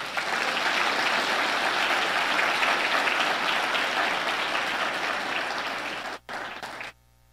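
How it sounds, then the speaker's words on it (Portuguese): A church congregation claps together during a sermon, a loud, dense, sustained wave of applause that stays even for several seconds and then cuts off abruptly near the end. "Vamos aplaudir Jesus?"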